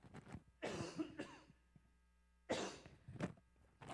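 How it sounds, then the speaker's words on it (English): A person coughs close to a microphone in a quiet room, in two separate bursts of harsh coughing with a faint hum in the pauses. "I'm going to have to cough."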